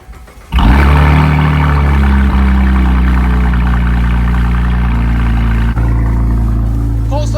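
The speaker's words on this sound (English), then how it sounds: "Cold start sounding pretty good." Wrecked and rebuilt Cadillac ATS-V cranks and fires into a loud cold-start roar, then settles into a steady, raised idle that runs for several seconds, close by.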